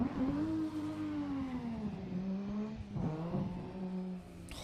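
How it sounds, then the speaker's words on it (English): A drift car's engine in the Assetto Corsa racing game holds a loud, steady, close-up drone, its pitch sagging and climbing again with each throttle change, with no one speaking. "I like the sound of this car."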